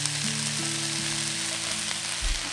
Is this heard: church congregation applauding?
no